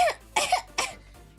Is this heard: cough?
yes